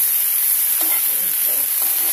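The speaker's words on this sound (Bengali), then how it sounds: "সেটার জন্য একটুখানি এটাকে একটু সতে করে নেব" Broccoli florets sauté in a pan for white sauce broccoli, a steady close hiss of frying with a few faint stirring clicks and no speech.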